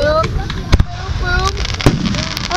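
Faint crackles and a few sharp pops from a Fourth of July fireworks show in Newtown sit beneath ongoing people's chatter and a high tonal background, with two or three louder bangs.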